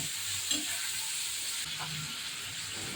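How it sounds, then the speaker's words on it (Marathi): Mixed potatoes tossed into hot oil seasoned with mustard seeds, cumin, asafoetida and fennel, sizzling steadily and closely in a home kitchen with a faint stir or two, no talking. "आता मिक्स केलेले बटाटे तेलावर टाकते"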